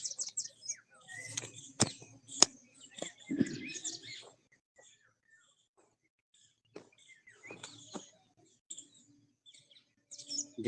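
Small birds chirp and tweet outdoors on a still, windless day, with scattered calls near and far, busiest in the first few seconds and again toward the end, separated by quiet gaps.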